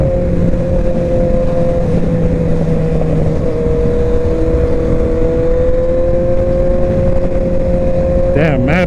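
Sport motorcycles, including a Honda CBR600RR, Kawasaki Ninja ZX-6R and Yamaha R1, make a loud, continuous engine roar that holds steady and close throughout, with a brief rising whine at the very end.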